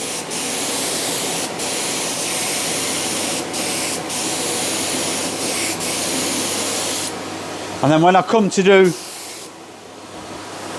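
A Graco HVLP 9.5 spray gun sprays a door edge in a small workshop, a loud, steady airy hiss for about seven seconds, broken by short pauses, then stopping as someone speaks.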